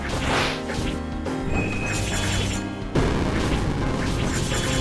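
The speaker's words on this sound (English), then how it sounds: "It's actually quite a big explosion." A large explosion bursts in the video game Momodora: Moonlit Farewell, a loud crash layered over dense game music, with a second heavy impact near the middle and no one talking.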